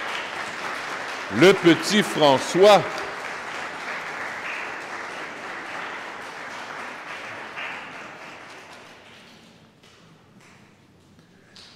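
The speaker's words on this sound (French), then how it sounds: "Une bonne main d'applaudissements pour" A congregation at Palm Sunday Mass applauds a child brought forward in church, with clapping that swells after a brief spoken phrase, carries on, then fades out gradually.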